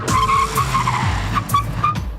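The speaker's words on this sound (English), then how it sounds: "look what happens when I brake as hard as I can" A car brakes as hard as possible from 80 km/h on a wet test track, tyres skidding and squealing in repeated pulses as the anti-lock system shudders, loud and close over steady engine and road noise.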